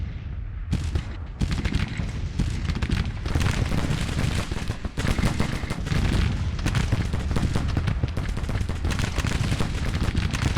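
Dense Civil War musket volleys from Grand Tactician, crackling continuously from two sides at close range, loud and sustained throughout with overlapping shots and no speech.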